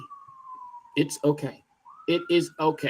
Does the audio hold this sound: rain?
no